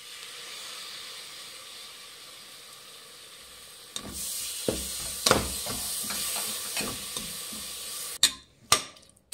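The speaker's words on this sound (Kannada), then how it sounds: "ಮೊಸರು ಹಾಕ್ಕೊಂಡು 1-2 ನಿಮಿಷ ಫ್ರೈ ಮಾಡಿದ್ದಾಯಿತು" Curd (yogurt) frying on low flame in a pan for kushka: a steady broad hiss of sizzling swells partway through, punctuated by sharp clinks of stirring against the pan.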